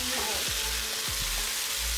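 Sautéed vegetables fry in a pan with a loud, continuous, close-up sizzle, and brief low knocks from stirring sound underneath.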